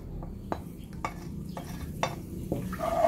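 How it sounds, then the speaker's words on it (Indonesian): Shallots, garlic and coriander being sautéed with a little salt in a Teflon pan for sate Padang, with regular spatula scrapes about every half second over a low frying sizzle. "bawang merah, bawang putihnya kita tumis, masuk si ketumbar dan beri sedikit garam ya"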